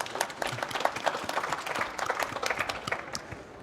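Audience applause after a business pitch at an event, a moderate round of clapping from a small crowd, steady and fairly close for a few seconds.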